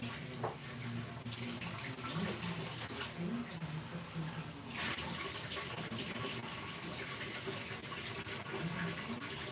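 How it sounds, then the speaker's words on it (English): Very hot water runs steadily from a home kitchen faucet into a container, a continuous close gushing hiss lasting throughout, with faint speech mixed underneath. "So I'm gonna use some really hot water from my faucet."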